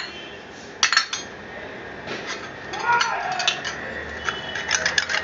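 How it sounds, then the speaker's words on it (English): Nutmeg is grated by hand in a home kitchen, giving soft scraping strokes mixed with faint clinks of metal and dishes, with someone talking quietly over parts of it. "Meantime, I'll grate little nutmeg."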